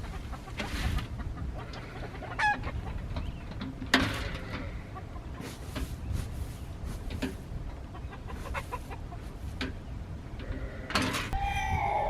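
Chickens cluck and squawk intermittently on a cold, windy, rainy day, over a windy, rumbling outdoor background, with occasional sharper calls and rustling noises.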